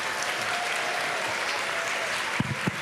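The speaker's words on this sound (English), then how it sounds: "give me a really big round of applause" Dense applause from a large audience of adults and children at a Christmas science lecture, steady and fairly loud throughout, welcoming the lecturer, with a couple of sharper thumps near the end.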